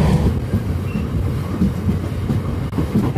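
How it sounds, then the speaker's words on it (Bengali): A Sairang Express passenger train rumbles steadily along the rails approaching Kamakhya Junction, a continuous low clattering roar heard from close by, with no voices. "আমাদের ট্রেন প্রবেশ করছে কামাখ্যা জংশন"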